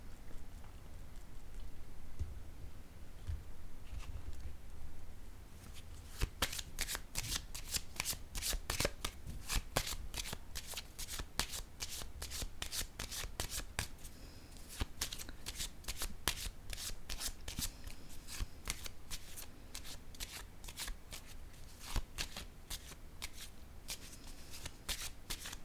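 Oracle cards being shuffled by hand, a quiet soft rustle at first, then a long run of dense rapid riffling flicks that continues steadily to the end, faint and close.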